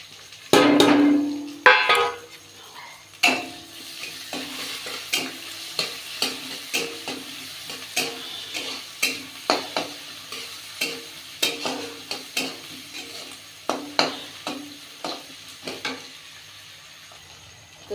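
Chopped onion hits hot mustard oil already holding cinnamon, cloves and cardamom, with a loud initial sizzle settling into steady frying, broken by repeated sharp clinks of a spatula stirring against the pan.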